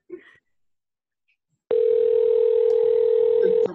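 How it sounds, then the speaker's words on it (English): On a conference phone line, a single loud, steady electronic tone sounds for about two seconds, then stops abruptly. It follows a brief soft noise and silence. "Somebody may be calling into our conference phone"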